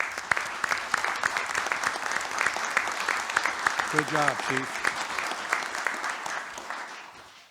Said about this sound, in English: I appreciate an opportunity to give him a round of applause.